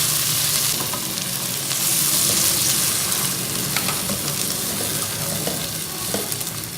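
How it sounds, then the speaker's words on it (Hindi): Yogurt being stirred into fish pulao in a hot pan, a loud continuous sizzle with soft scraping and stirring, close up and without talk. "दही ऐड करने के बाद फौरन मिक्स करें"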